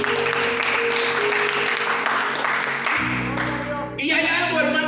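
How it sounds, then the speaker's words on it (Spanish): A church congregation applauds during a Spanish-language sermon, with steady clapping and crowd noise that shifts and grows louder toward the end, mixed with voices and music. "Denle un aplauso al Señor en esta mañana."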